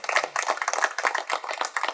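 An audience at an anniversary ceremony in a pyramid meditation centre in Kengeri claps in a dense, steady burst of applause, close and fairly loud, with no voices over it.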